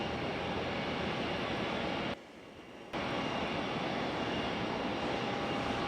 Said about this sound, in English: Lufthansa on the pushback.